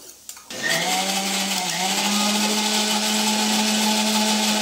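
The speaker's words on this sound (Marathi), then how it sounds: "आता नारळ पण वाटायचा" Kitchen mixer grinding fresh wet coconut into paste, starting up after a couple of clicks and then whirring at a steady, loud, high-pitched motor drone, close by.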